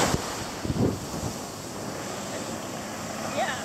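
High-tide surf washes steadily on Paynes Bay beach in Barbados, a loud continuous roar of waves mixed with wind buffeting the microphone.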